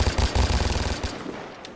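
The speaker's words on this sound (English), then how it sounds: "Machine gun." Rapid machine gun fire in the video game Vigor, a dense burst of shots for about a second that then trails off into fading echoes, loud and close with no talking.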